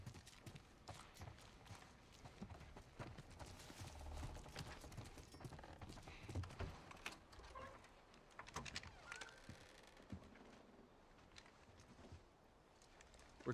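Horse hooves clip-clopping in the game The Last of Us Part 1, irregular muffled thuds and clacks mixed with rustling, creaks and movement noise, quiet and close throughout.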